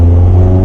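Car with a torquey PD150 diesel engine revving hard while a wheel spins in third gear, a loud, steady, close engine drone with no break.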